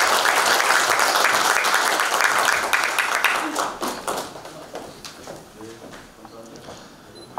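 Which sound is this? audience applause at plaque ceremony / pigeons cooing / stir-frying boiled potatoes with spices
audience applause at plaque ceremony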